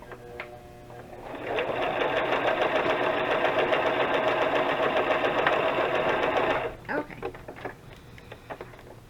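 A sewing machine stitches burlap and lace embellishments while its thread runs low, giving a steady close whirring run of about five seconds that stops abruptly, followed by a few small clicks and handling sounds.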